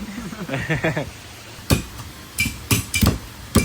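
Garlic chopped with a knife on a board during a cooking class in Thailand, several sharp heavy knocks, close and loud, following a stretch of voices talking.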